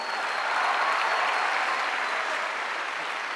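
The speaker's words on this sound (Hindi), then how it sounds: "जोरदार ताली इसके लिए।" Audience applause for a speaker's achievement at a success testimony event, an even wash of dense clapping held steady for a few seconds, fairly soft and without talk.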